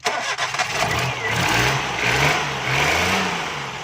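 A petrol car with a fault that makes it stall at idle cranks on its self-starter and catches, the engine firing loudly up close and then settling into a rising, uneven rev and idle.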